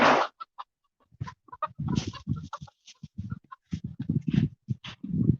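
A rooster and chickens squawk and cluck in agitated, rapid bursts during an attack, close and loud, with excited flapping and calls tumbling over one another.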